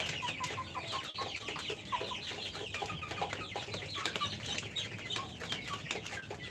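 A flock of 47-day-old ready-to-lay hens at a poultry farm clucks continuously, many overlapping soft calls rising and falling close by with no one talking.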